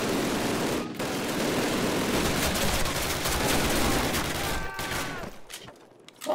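Dense, sustained gunfire rattles through a Call of Duty match, loud and continuous with a couple of brief gaps, tapering near the end. Nobody speaks.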